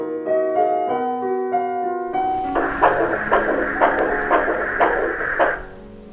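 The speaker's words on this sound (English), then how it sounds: "Then we hugged it and there was a sound indeed of the heartbeat." A toy bear's heartbeat when hugged: a few soft melodic tones are followed by a regular series of muffled rhythmic pulses, close and steady, fading out after several beats.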